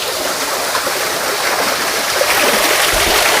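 Water from a waterfall stream rushes through a channel, making a constant close-up gushing, splashing flow that stays loud and even across the short stretch, with no talk over it.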